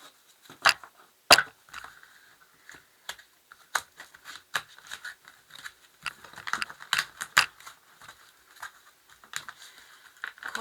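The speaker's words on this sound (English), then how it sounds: "I'm just going to shuffle the decks for you now." Tarot cards being shuffled by hand, the stiff new deck giving a run of crisp, irregular riffles and taps close to the microphone, alone without speech.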